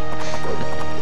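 Cavalry hooves clip-clop in a rapid, even rhythm during an Age of Empires match, a loud and busy patter of game hoof sounds with no talk over them.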